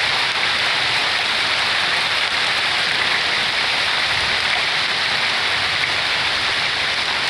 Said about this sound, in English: Bouncing off the roof a little bit. Yep, spring rainstorm can turn into hail real quick out here.